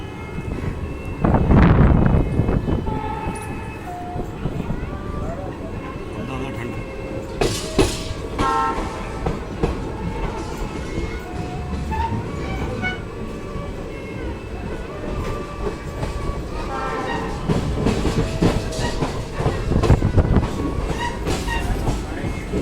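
A sleeper class passenger train running between Jodhpur and Ahmedabad via Patan rumbles along with steady clickety-clack, as a loud horn blast sounds early on and swells again near the end, with faint voices in the carriage.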